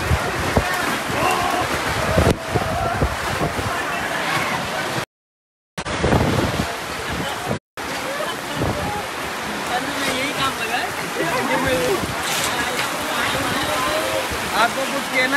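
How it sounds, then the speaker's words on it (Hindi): Heavy monsoon rain pours onto a sports complex in Dungarpur, a dense, loud, steady hiss of water throughout, with two brief dropouts and people talking over it. "भयंकर बारिश होती हुई"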